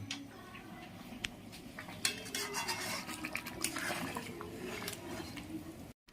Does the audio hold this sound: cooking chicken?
yes